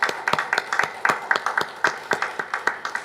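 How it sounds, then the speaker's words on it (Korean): Clapping at a Korean church's 41st-anniversary service: a steady run of sharp, fairly sparse claps, like a small group or a few hands near the recorder, with no talking over it. "감사합니다라고 감사의 박수 보내드립니다"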